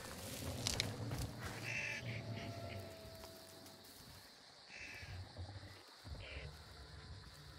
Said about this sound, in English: Fucking crows, man, everywhere.